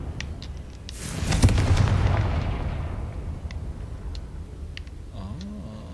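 A Confringo fire spell explodes in the Hogwarts Legacy video game, a loud booming blast that swells and rumbles for a couple of seconds before fading into lighter game ambience.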